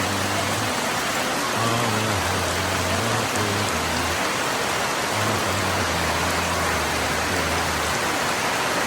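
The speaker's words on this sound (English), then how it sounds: "So the rain came down, didn't it?" Heavy afternoon downpour in a Costa Rican tropical rainforest, a dense continuous hiss of rain falling on foliage and surfaces, steady and enveloping with no voices.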